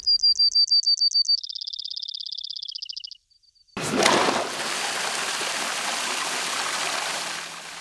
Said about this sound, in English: So we're doing our flushing of the city water mains.